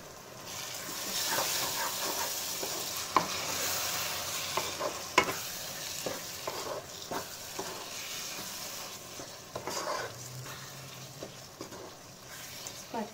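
Onions and tomatoes fry in oil in a pan while being stirred, a steady close sizzle and hiss broken by scraping stirs and clinks of the spoon, with no talking.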